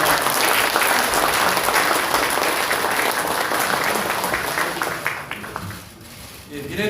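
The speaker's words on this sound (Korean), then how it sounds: "큰 박수로 맞아주시기" Sustained applause from a crowd at a United Future Party gathering marking the Korean War anniversary, steady and dense, dipping slightly near the end, with voices mixed in underneath.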